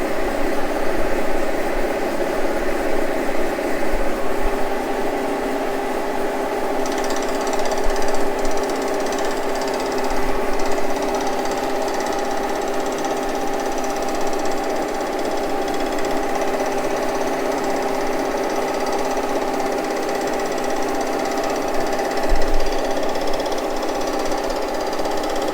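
Machine cutting a deep interface into a Harley-Davidson crankcase, a continuous loud mechanical drone with a rapid rattling chatter and occasional heavier knocks throughout.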